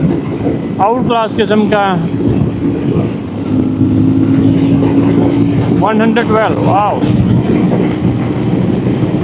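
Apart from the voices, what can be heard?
adventure motorcycle engine revving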